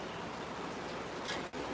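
Rain falling in Kingston, a soft, even hiss of steady rainfall heard from nearby, faint and constant, with a brief louder rustle near the end and no talking.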